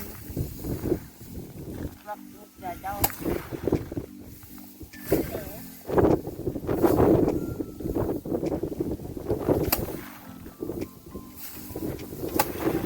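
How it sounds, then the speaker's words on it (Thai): Rice sheaves beaten against a wooden board to thresh the seeds in a farm field in Laos give repeated sharp thuds outdoors amid wind noise, while people talk throughout. "นี่เอิ้นว่าการฟาดเข่า การฟาดเข่าเพื่อเอาแนวเข่าปลูก"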